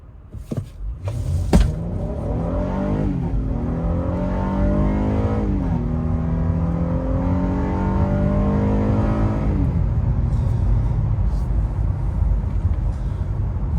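A 2021 Honda Passport EX-L AWD in sport mode accelerates hard from 0 to 60, its engine note climbing steadily through several upshifts, loud and close, with no talk over it.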